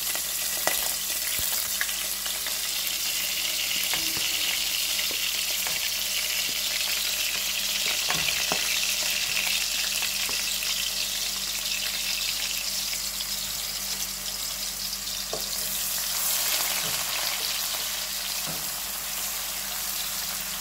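Onion frying in hot oil, a steady close sizzle with occasional stirring clicks, continuous throughout while preparing beans with pig's feet and sausages.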